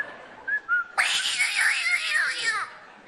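A person imitates a cat's meow with a sudden, loud, drawn-out yowling wail that wavers in pitch for about a second and a half, following a couple of brief whistled notes.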